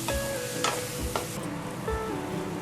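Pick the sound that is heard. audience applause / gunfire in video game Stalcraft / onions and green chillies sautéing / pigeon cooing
onions and green chillies sautéing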